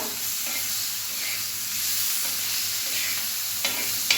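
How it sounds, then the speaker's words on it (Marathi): Tomato gets stirred into onions frying in a pan for a methi bhaji, steady soft sizzling with a few scraping strokes of the spoon, close and fairly quiet. "आता आपल्याला टोमॅटो घालून घ्यायचा आहे मिक्स करूया"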